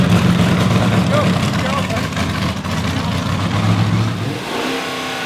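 A Dodge Challenger pro mod drag car at a World Series of Pro Mod event roars loudly, revving and accelerating before the noise drops away toward the end, with voices talking over it.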